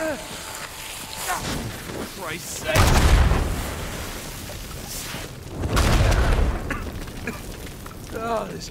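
Explosions in Uncharted 4 while exploring a tomb full of mummies: two heavy, booming blasts a few seconds apart with rumbling tails, plus smaller pops and debris. Voices speak briefly between the blasts.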